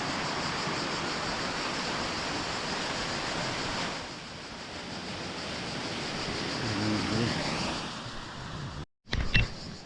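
A waterfall in the Kaz Mountains of Turkey gives off a steady rushing roar, heard close and continuous, like broadband noise. A brief handling knock and a dropout come near the end.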